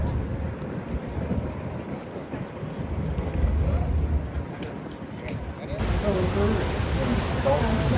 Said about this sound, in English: Sailing away from Ponta Delgada, Azores.